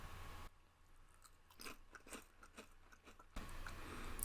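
Biting and chewing on a spiced cumin lamb skewer, close and quiet, with soft irregular crunchy bursts over a low background hum.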